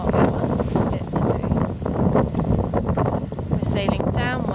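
Strong wind buffeting a sailboat running downwind under sail off Pylos, Greece, a steady loud rush and roar with gusting noise on the microphone and a brief voice partly heard under it.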